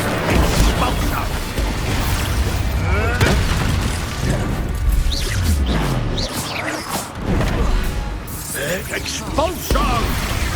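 Repeated booming Expulso explosion spells cast during a Hogwarts Legacy duel, heavy blasts layered over constant combat noise with shouted voices throughout.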